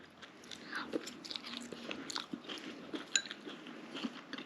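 Close crunchy chewing of fresh garden kale, a steady run of crisp bites and munches with small clicks, no talking.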